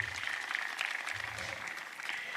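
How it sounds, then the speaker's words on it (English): Crowd applause at a safety week celebration held at an airport, a steady broadband patter of clapping running through the whole stretch at moderate level. "Can you give him another round of applause?"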